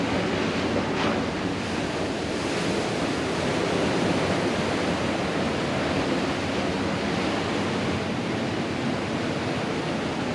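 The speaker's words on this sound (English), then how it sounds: "Big waves today." Big surf pounding at Gulf State Park Pier in Gulf Shores, Alabama on a rough red-flag day, a continuous loud wash of breaking waves mixed with gusting wind across the microphone, with no voices.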